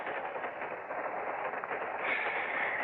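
Steady rumble of a passenger train running along the rails, a dense continuous roar that swells slightly louder near the end, with no talk over it.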